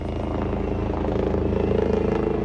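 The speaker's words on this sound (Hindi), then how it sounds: "ये हेलीकॉप्टर जो आसमान में उड़ते हुए नजर आ रहे हैं" Helicopters fly over Nepal during the protests, their rotors making a steady, rhythmic thudding drone that swells slightly as they pass, fairly distant, with no talk.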